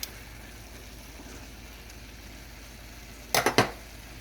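Fried cabbage and squash are stirred in a pan: a quiet background hiss gives way to a quick cluster of three or four close metallic scrapes and clanks of a utensil against the pan.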